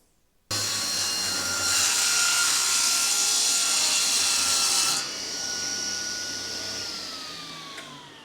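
A power saw rips a wide walnut slab in half, a loud sustained whine starting abruptly, intensifying mid-cut, then easing and slowly dropping in pitch as the blade spins down.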